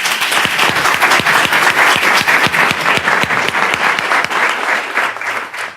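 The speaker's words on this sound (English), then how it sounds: "Can we have another round of applause for John?" Loud audience applause at a speaker series event on race and racism, many hands clapping in a dense, steady, close burst that holds throughout before easing slightly at the end.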